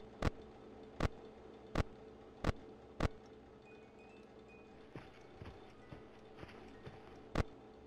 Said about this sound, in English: I hear footsteps on my left.